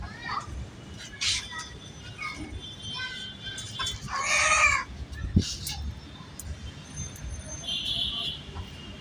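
A rooster on a rooftop lets out several short clucks and a longer, louder harmonic call mid-way, heard fairly close over a low outdoor background.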